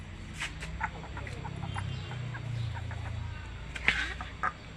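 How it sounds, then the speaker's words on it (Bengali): Ducks at a rural home, swimming and playing in water in winter, give a run of short quacking calls over steady low background noise, with a couple of sharper calls near the end. "হাঁসের কিচিরমিচির শব্দ"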